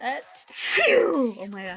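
One sharp, close sneeze bursts out from a woman, with her brief spoken exclamations just before and after it.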